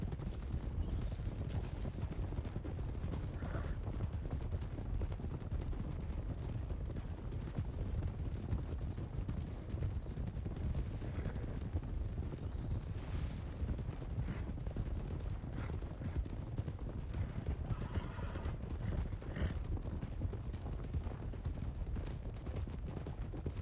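Several horses' hooves clop in a dense, continuous patter in a Wild West roleplay video game as a mounted group rides together toward town, steady and fairly loud throughout.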